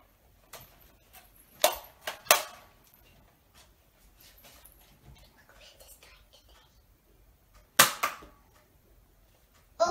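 A child's Nerf toy gun firing darts indoors, with a few sharp snapping pops spaced seconds apart amid quiet rustling and someone speaking.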